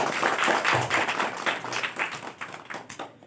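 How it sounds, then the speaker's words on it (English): A Republic Day celebration audience claps for a prize winner, with a burst of applause that starts full and gradually thins and fades toward the end. "Let's have a big clap for Master Vinit Chakrabarti."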